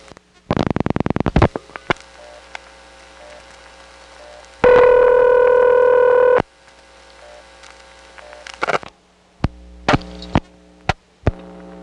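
Dialing a two-digit number through a 1970s step-by-step exchange in Smyrna, Georgia: bursts of rapid mechanical clicks and switch stepping, a sustained steady tone, then several sharp separate clicks over a faint mains hum, with no voices.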